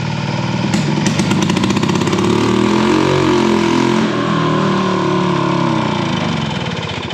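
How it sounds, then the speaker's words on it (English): Engine of an old Harley golf cart kicking in when put in reverse, a loud close rumbling drone that rises as it engages and moves, with no talk. "as soon as you step on it in reverse, you guys will hear how fast the engine kicks in and it starts moving"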